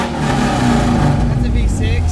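A Ford Mustang V6 engine revs up from idle with a deep, steady rumble that stays loud for about two seconds, while people talk over it.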